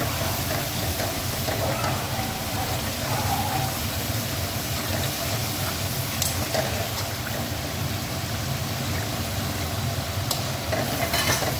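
Spice masala frying with taro leaves in a pan, a continuous dense sizzle and hiss close by, with occasional stirring scrapes and faint background voices.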